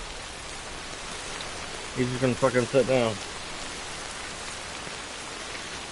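Steady rain patters continuously in the video game Death Stranding, with someone briefly speaking over it midway.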